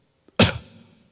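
One short, sharp cough-like burst from a nearby voice, a human imitation of a cough, fading quickly into silence.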